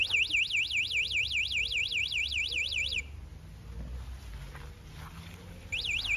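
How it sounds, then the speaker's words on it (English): The anti-theft alarm on a locked DYU A5 small folding e-bike sounds a loud, rapidly warbling electronic siren when the bike is moved outdoors. It wails steadily, cuts out for a few seconds, then starts again. "an alarm is going off"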